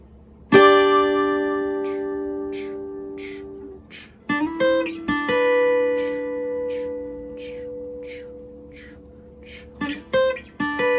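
Lead electric guitar plays a song's chorus part: a picked note rings out, then slides and picked bottom-string notes follow in short phrases, clean and moderately loud with gaps between phrases.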